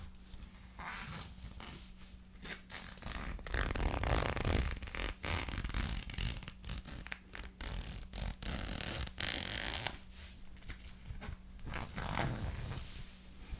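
A zipper on a thrifted velour tracksuit-style garment is handled up close, giving repeated soft zipping rasps and fabric rustles in short bursts, quiet and intimate with no talking.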